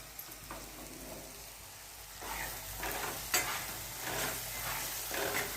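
Chickpeas for chole cook in a pan, with a steady, fairly quiet frying hiss and scrapes of a spoon stirring them. The strokes come more often and grow a little louder in the second half.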